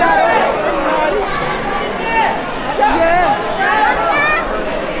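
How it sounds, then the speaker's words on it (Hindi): Crowd at the Khatu Shyam Ji temple kund in Rajasthan, a busy babble of many voices nearby with shouts and calls rising and falling throughout. "पर इस टाइप का भीड़ है।"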